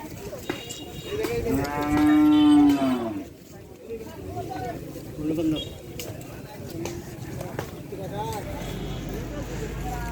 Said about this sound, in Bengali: এই তো গরু নিয়ে আসা হচ্ছে হাটে আরো।